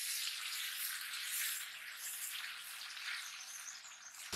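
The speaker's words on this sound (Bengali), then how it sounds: "ভালো করে কষিয়ে নিতে হবে।" Chopped tomatoes and spices fry in a hot pan for a village-style okra dish, giving a steady, bright, close sizzle with no pause.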